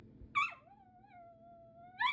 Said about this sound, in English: Number 4, attention barking.